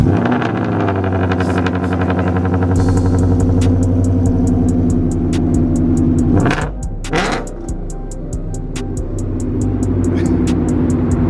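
A Ford car running on E85 with a strong, close engine drone and steady rumble, swelling into a couple of revs midway before settling back to a loud, even run.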